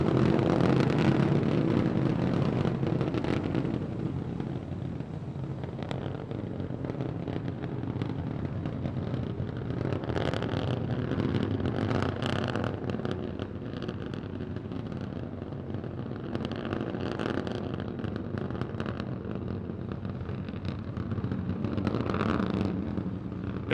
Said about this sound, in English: All 3 Raptor engines continuing to burn.